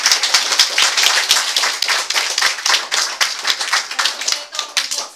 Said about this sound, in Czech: My vám zatleskáme za vaši prezentaci.